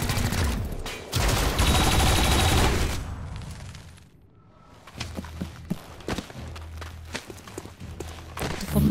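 Gunfire in XCOM Chimera Squad as a squad member shoots at a commando: a dense burst of rapid shots up front, a brief lull, then sharp scattered cracks over low rumbling game effects.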